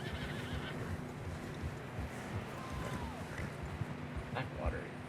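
Horses in a video game, set in a Blackwater area, with a whinny and scattered hoof clops under a steady ambient bed of wind and water, all fairly quiet while voices talk.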